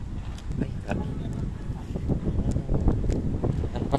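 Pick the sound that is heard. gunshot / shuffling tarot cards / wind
wind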